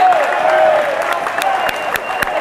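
A basketball crowd claps and cheers in an arena, a dense wash of applause with a few sharp claps standing out. A voice comes in over it.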